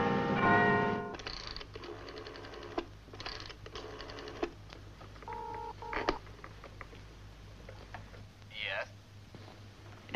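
A telephone being dialed for a long-distance call in a 1960s TV drama, with a string of tones and clicks, a low steady hum and faint room noise, followed by a short rising chirp near the end.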